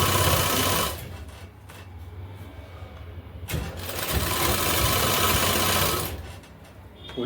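A sewing machine runs steadily as it stitches a sleeve onto a kurti. The whirring is loud and continuous, with a brief slowdown near the start and a short pause midway before it resumes at full speed.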